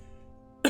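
A single sharp cough bursts out near the end, loud and close, following a quiet stretch with faint background music.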